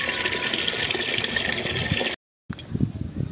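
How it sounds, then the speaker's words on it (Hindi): Water gushes steadily as a capful of seaweed fertilizer is poured into 10 litres of water for terrace garden plants, a loud continuous flow that cuts off briefly before quieter splashing resumes. "करीब एक ढक्कन इसमें 10 लीटर पानी में डालना पड़ेगा।"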